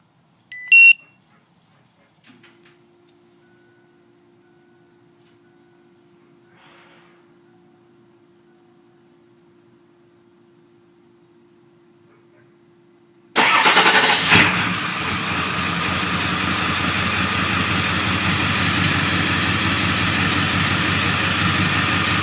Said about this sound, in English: here's the remote start,